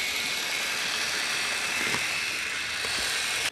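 A motorized plastic model of an M3 tank runs its engine sound effect, a steady faint electronic drone with a soft mechanical whir underneath and a few light clicks near the middle.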